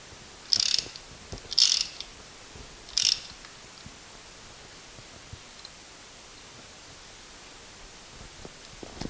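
Three short ratchet bursts click close by as a bolt is tightened on a Mini Moke front subframe, then quiet workshop hiss follows.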